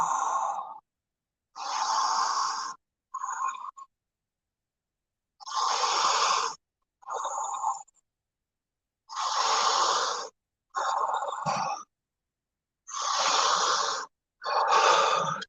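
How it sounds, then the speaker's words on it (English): A person breathes in long, even sighing breaths at a slow guided pace, each inhale and exhale separated by short silences, close and clear with no talking. "Continue breathing at this pace."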